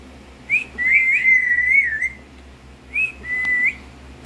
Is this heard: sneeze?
no